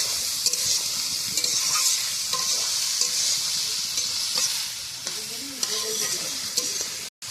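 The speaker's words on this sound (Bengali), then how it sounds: "গাজরটা একটু নাড়াচাড়া দিয়ে আদা সিদ্ধ করে নেব।" Carrots being stirred as they fry in a pan over a wood-fired village stove, a steady close sizzle with scraping spatula strokes and light knocks throughout, no talk.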